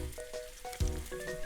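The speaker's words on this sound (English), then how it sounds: "I'm just gonna fry the garlic very lightly." Garlic frying lightly in a warmed pan for a vegan konnyaku dish, giving a soft, steady sizzle close by, with a brief louder crackle midway and no talk.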